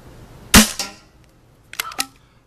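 A vintage Nelson pump-action stock class paintball gun fires, one sharp loud shot with a short tail, then after a pause two quicker, lighter pops close together, with no talk.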